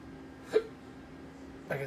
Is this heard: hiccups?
yes